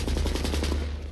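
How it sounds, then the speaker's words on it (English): Automatic weapon fire from the shooter game The Division: a rapid, evenly spaced burst of shots, moderately loud and close, tapering slightly as it ends. "Ooh, that sounds like promising gunfire."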